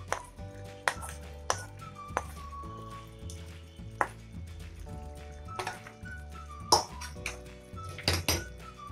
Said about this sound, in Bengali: এবার আমি ভেজে রাখা পেঁয়াজ ক্যাপসিকাম গুলো চিকেনের মধ্যে দিয়ে দেব